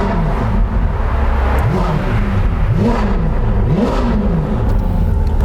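A Ferrari supercar engine revs loudly and close with the exhaust flaps open, rising and falling through several throttle blips over a steady idle, with no talking.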